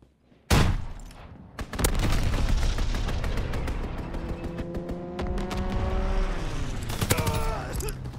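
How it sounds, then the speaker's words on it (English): Call of Duty WWII strafing run: a sudden heavy impact, then a dense sustained barrage of rapid gunfire and explosions with a droning engine tone, close and loud throughout, ending in another burst of shots. "Strafing run inbound!"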